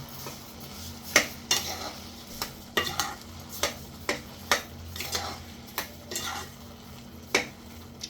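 A spoon stirs sugar into carrot halwa, scraping against the pot in uneven repeated strokes, each with a sharp clink, over a faint background sizzle.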